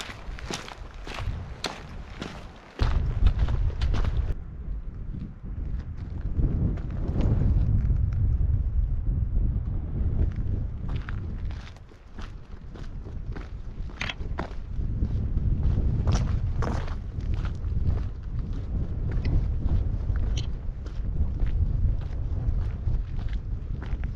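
Gusty wind buffets the microphone on a hike along the Affric Kintail Way in Kintail, rising and falling loudly over a crunching run of footsteps on a trail.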